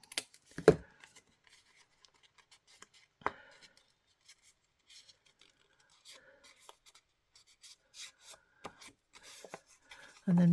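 Paper being cut with scissors for a wildflower craft kit, a few close snips and crisp rustles separated by quiet pauses, with a soft voice murmuring between cuts.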